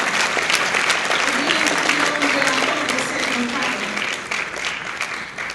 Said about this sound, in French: Encore une fois, pour nos applaudissements nourris, pour Madame la ministre,